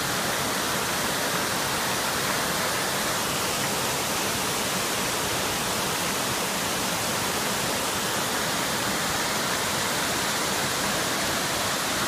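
A roadside waterfall on the Hana Highway in Maui roars as a steady, dense rush of falling water, unbroken and even throughout.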